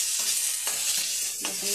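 Onion and potato sizzle in a pan, a bright constant frying hiss broken by a few scraping stirs of a spoon, close up with no talking.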